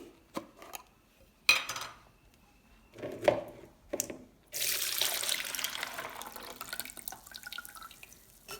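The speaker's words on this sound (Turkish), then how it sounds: "Evet bir gece bekletmiş olduğum muz kabuğu suyunu şimdi süzeceğim." Overnight-soaked banana peel water being strained: splashes and clinks of a container come first, then a continuous close pour of liquid trickling and dripping, with no speech.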